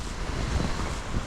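Strong wind buffets the microphone outdoors in Saltdal, northern Norway, as a steady, loud, low rumbling roar with no break and no voices.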